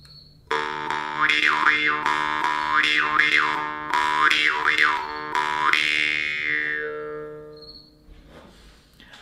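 Slow rhythmic jaw harp playing: one sustained twangy drone with repeated wah-like tone swells in a steady pattern, close and solo, fading out at the end.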